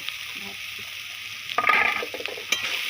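Boiled meat and potato spring roll filling stirred in a hot pan, with a steady sizzle throughout and scraping, clattering stirring strokes starting partway through.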